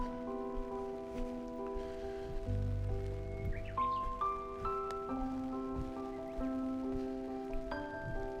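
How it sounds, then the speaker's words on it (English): Rain falls outdoors in a Japanese neighbourhood as a soft steady patter, faint beneath sustained tonal music that holds and shifts throughout. "It's raining."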